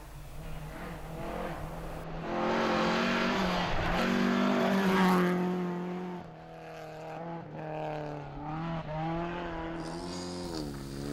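Rally car at speed on a stage during the Liminka Rally, its engine rising and falling through gear changes with brief tyre scrub, loud and close, no talk over it.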